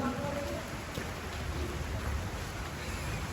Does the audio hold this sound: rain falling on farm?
yes